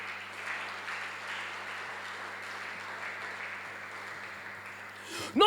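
A church congregation claps and cheers in praise, a steady wash of applause and acclamation filling the room at moderate volume before a voice cuts in at the end.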